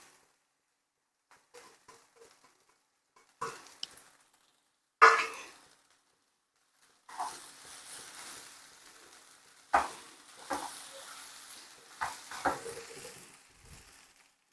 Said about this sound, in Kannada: ಪುಡಿ ಮಾಡಿ ಇಟ್ಕೊಂಡಿದ್ದೀವಲ್ಲ ಇದನ್ನು ಹಾಕ್ಬಿಟ್ಟು ತಿರುಗಿಸ್ಬೇಕು